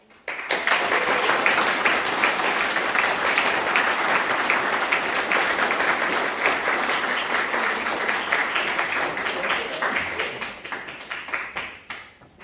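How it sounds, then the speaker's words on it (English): A graduation audience claps steadily for a student named Jacob, dense applause rising quickly and holding strong for about ten seconds before tapering into scattered claps. "please give Jacob a big clap"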